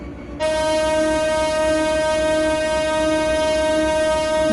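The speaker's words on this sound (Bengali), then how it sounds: "তো আমরা এখন আবার হর্ন দেবো।" Sustained electronic train horn from a Bangladesh train simulator game, starting abruptly and holding a steady, loud, harmonic-rich tone for over four seconds with no speech.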